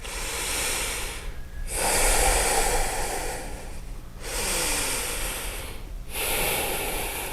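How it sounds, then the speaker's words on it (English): Three slow, deep breaths are taken while holding a yoga plank pose. Each is a long, loud, close hissing inhale-exhale separated by short pauses, with no speech. "Commit to holding here 3 full breaths."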